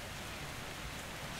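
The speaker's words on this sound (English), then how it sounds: "Kid, why are you standing in the rain?" Steady rain falling in the video game Metro Exodus, a dense, even hiss that fills the whole moment without pause or voices.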